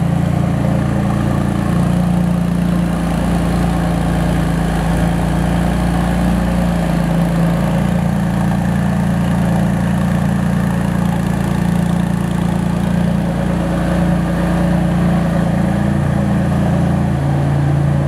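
A turbocharged car from a private collection idles steadily and close, its deep engine rumble and mid-range hum constant throughout without speech.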